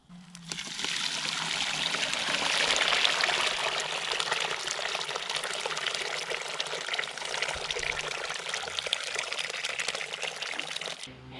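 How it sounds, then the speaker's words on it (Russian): Dirty water is poured off after iron is extracted while processing firewood ash for gold, a steady close pour and trickle lasting several seconds with no talk over it. "Все это лишнее воду сейчас сливаю."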